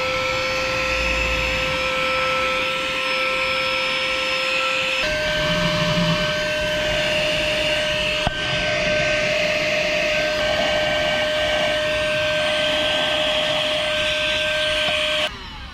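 A vacuum cleaner drones loudly and continuously with a steady high whine while sucking dust out of the engine bay of a VW T4 2.5 TDI van near the intake manifold, its pitch shifting slightly as the nozzle moves.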